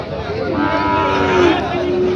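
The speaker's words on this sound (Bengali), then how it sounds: "একটা শাহিওয়াল ষাঁড় বাচ্চা দেখতে পাচ্ছি দর্শক" A Sahiwal bull calf at a cattle market gives one loud, close, drawn-out moo that rises and then tapers off over faint background noise.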